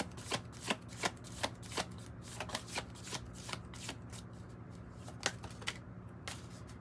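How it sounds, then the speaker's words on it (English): Tarot cards being shuffled by hand in a series of crisp riffling bursts, close and fairly quiet, repeating in an uneven rhythm with no talking. "I did shuffle them though."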